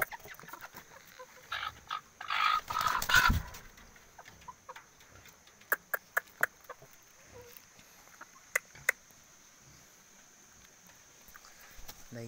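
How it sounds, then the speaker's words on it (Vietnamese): A backyard chicken clucks in short bursts near the start, followed by sparse ticking pecks and small clicks against a faint steady background hiss. "Đây là con gà của mình nhé."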